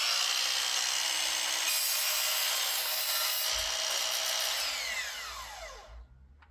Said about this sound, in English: Our mitre saw produced a clean and accurate cut through it.